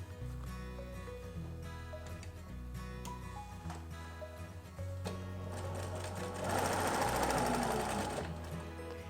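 Sewing machine stitching patchwork fabric for a Seminole-technique table runner, running in steady rapid bursts close by, pausing briefly and then speeding up into a louder, faster whir near the end.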